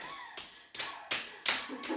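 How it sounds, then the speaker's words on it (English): During a full-body home workout, feet clap together in a steady rhythm of four soft, close slaps spaced about a third of a second apart, with faint breathy noise between them. "We clap your feet."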